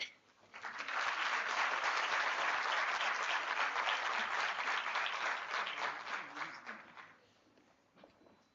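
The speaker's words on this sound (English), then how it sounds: "You can clap properly." Audience applause swells quickly, holds as a dense, steady wash of clapping for several seconds, then thins and fades out.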